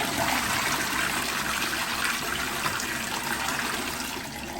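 Water rushes steadily into a toilet tank refilling after the supply valve is opened, a constant broadband hiss and gush that holds at a fairly loud level throughout with no voices.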